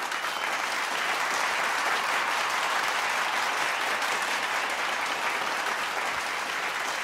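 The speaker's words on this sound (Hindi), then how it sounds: "करीब 2 मिनट तक लगातार तालियां बजती रहीं।" Large audience in an American lecture hall breaks into sustained, even applause, a thick continuous wash of many hands clapping at steady loudness, with no voices over it.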